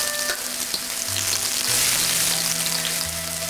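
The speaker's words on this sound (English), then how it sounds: "One side is brown and we're turning to the other side for about another 2 minutes." Marinated meat frying with ginger in a wok, a loud, steady close sizzle that swells briefly as the pieces are turned, with faint low tonal hums beneath.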